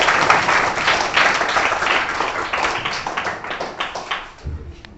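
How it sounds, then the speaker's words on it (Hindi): A room of students claps for a fellow student, a dense burst of applause that fades over about five seconds. "तो एक बार इनायत अंसारी के लिए एक बार जोड़ा ताली होना चाहिए।"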